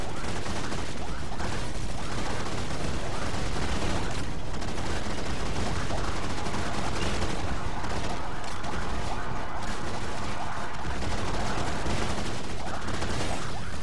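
Blaster gunfire in the Star Wars Battlefront 2 video game during a team deathmatch, a dense, continuous barrage of shots and explosions that stays loud throughout.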